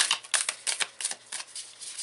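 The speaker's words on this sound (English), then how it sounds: "They're pretty easy to shuffle because they are coaster size." Coaster-size tarot cards are shuffled by hand, a quick series of soft flicking riffles and taps, close and quiet with no talking.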